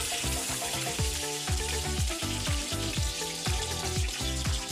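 Sliced onions fry with bay leaf and green chillies in a pan for Mysore-style mutton pulav, giving a steady close sizzle that runs the whole time under loud background music.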